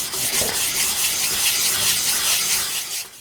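A knife being thinned on a Naniwa 220 grit traditional whetstone, giving a continuous gritty hiss of steel rubbed across the stone in quick strokes, close up and alone.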